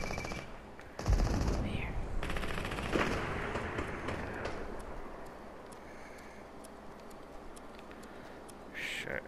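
Gunfire rattles in the video game Fortnite, with a loud close burst followed by rapid repeated shots that fade into quieter distant firing, and a voice speaks faintly over it.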